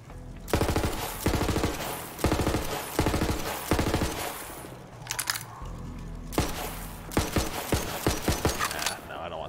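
A semi-auto gun in Borderlands 3 fires in rapid bursts of loud, crackling shots, several clusters separated by short pauses, with mechanical clicks in between and a voice talking faintly at times.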